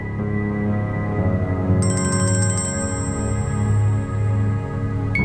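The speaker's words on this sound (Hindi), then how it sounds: "किसका फोन है?" A phone ringtone plays loudly and steadily over a sustained tonal musical drone, a bright electronic tone rising in the middle and repeating for several seconds, close and continuous.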